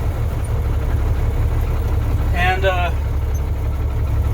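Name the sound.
truck engine idling after start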